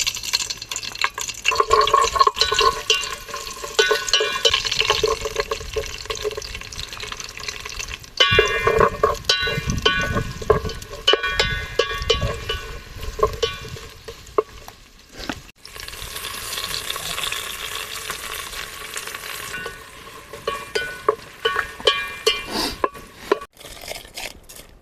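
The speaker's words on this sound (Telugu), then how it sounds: "అది కూడా ముందే ఆయిల్ పోస్తున్నా." Oil is poured into a pot for bagara rice and then spits and sizzles as frying begins, with clattering stirring and uneven bursts of crackle rising and falling, no voices.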